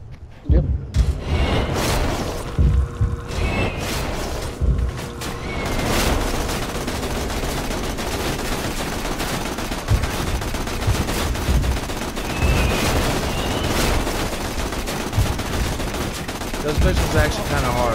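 Turret gunfire in the Borderlands 2 video game, a sustained loud rapid-fire stream of machine-gun shots with occasional heavier bangs, continuing throughout while people talk over it.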